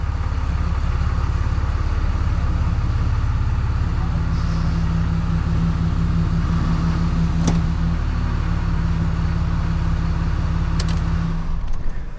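A Cummins 6.7 diesel engine idles steadily after break-in, giving a continuous low, even rumble with a constant hum that holds near and loud for the whole stretch.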